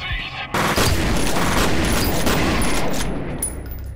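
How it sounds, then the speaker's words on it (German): Dense gunfire and explosive booms crash together in the PC shooter F.E.A.R., with a sudden loud onset followed by sustained overlapping shots and bursts that ease off toward the end. "ich werde hier mal ein paar Headshots verteilen"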